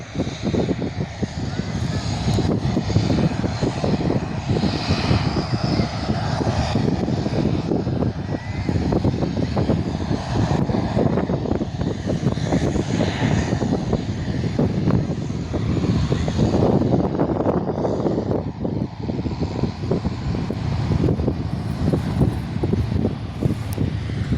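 On a windy day a Dash 8 Q400 turboprop airliner departs, its propeller and engine roar a broad, sustained drone mixed with gusting wind noise across the microphone, with speech heard at times.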